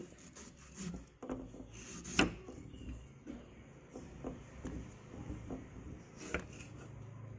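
Knife cutting mango into pieces for Thai pickled mango: soft, quiet scraping and rubbing strokes broken by a few sharper taps against the board.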